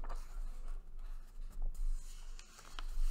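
Paper pages of a Pesach workbook rustle and flip, with several soft swishes and papery rubs close to the listener, uneven in rhythm with brief pauses between turns.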